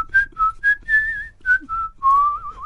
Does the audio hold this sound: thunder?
no